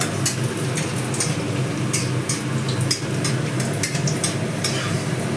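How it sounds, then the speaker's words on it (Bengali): Chopped garlic frying in hot oil in a pan, a steady dense sizzle that runs unbroken and close throughout, with faint crackles on top and no speech. "তেলটাও গরম হয়ে গেছে আমি এর মধ্যে দিয়ে দেব একটু রসুন কুচি"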